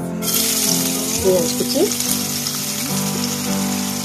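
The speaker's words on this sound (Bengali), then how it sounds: "পেঁয়াজ কুচি, লঙ্কা কুচি, এগুলো দিয়ে আমি একটু লাল করে ভেজে নেব।" Chopped onion and chilli frying in hot oil in a wok, a steady close sizzle that continues throughout, with a voice speaking briefly over it.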